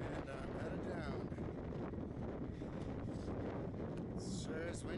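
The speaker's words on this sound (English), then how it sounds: "It sure is windy on this side." Strong wind blasts steadily across the microphone on the descent from Kearsarge Pass, a mountain pass on a hiking trail, producing a continuous loud roar and buffeting with no letup.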